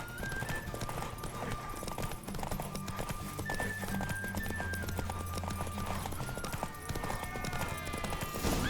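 Steady clip-clop of galloping hooves with a horse neighing over it, set against continuous music, in the video game The Witcher 3.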